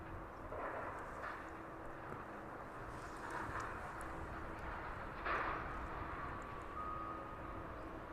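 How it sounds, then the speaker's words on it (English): A Boeing 777 taxiing at East Midlands Airport in the evening gives off a steady, moderately distant jet engine rumble and whine that holds through, with a faint high tone near the end. "777 continuing its taxi."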